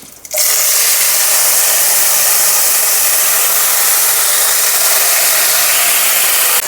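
Raw banana curry goes into a pan of hot oil with tempered mustard seeds and curry leaves. A sudden, loud, continuous hiss of frying starts just after a quieter moment and holds evenly to the end.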